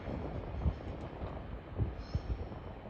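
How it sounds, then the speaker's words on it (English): A Class 66 diesel freight locomotive rolls through York station on the East Coast Main Line, heard as a low, fairly faint rumble with a few soft thumps from the wheels, somewhat distant and unaccompanied by speech. "we now have a class 66 passing through York"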